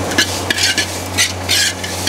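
Roasted coconut with chili and pepper powder is stirred in a pan for a boti curry, giving repeated scraping, rustling strokes in bursts about every half second over a steady low hum, close and moderately loud, with no talk.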